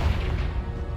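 A Confringo fire spell blasting in Hogwarts Legacy, a short, heavy low rumbling burst that fills the moment and stays dense throughout, loud and close.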